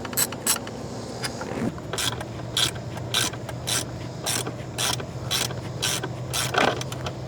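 Front seat screws of a Tesla Cybertruck being unscrewed, giving a run of sharp, evenly spaced ratcheting clicks close up over a faint steady hum.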